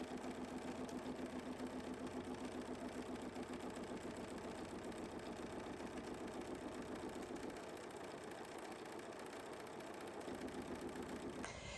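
A computerized embroidery machine stitches a block for the Kimberbell Mystery Quilt, its rapid, steady needle chatter running continuously at moderate volume, with a brief dip in the rhythm before it picks back up.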